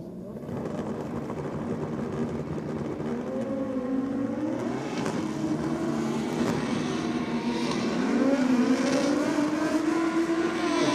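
Double D altered drag bike making a national-record pass at a drag strip, a sustained distant engine roar rising steadily in pitch as it accelerates down the track.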